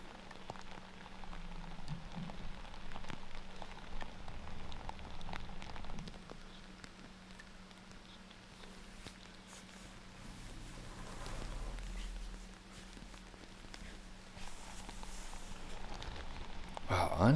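Rain falling during an outdoor disc golf tournament round in Estonia, a steady hiss of drops on surfaces with a low hum underneath and faint voices in the background.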